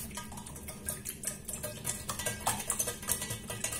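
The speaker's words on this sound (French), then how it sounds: "Je vais battre mon œuf." A utensil beats an egg quickly in a saucepan in a steady rhythmic clatter, close and moderately quiet, with no voices.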